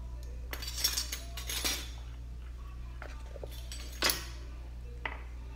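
Very fine cornmeal is spooned into a metal strainer and levelled off, giving a few light clinks and scrapes of the spoon against the strainer over a low steady hum.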